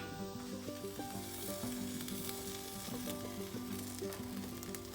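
Steady bubbling and hissing from a pot on the boil, a continuous simmering sizzle close by with faint clinks and a low background hum.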